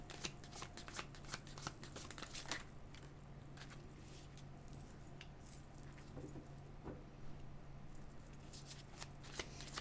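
Tarot cards are shuffled repeatedly in quick, crisp riffling bursts, close up, with a low steady hum underneath and no speech.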